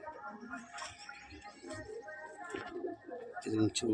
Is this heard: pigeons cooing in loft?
yes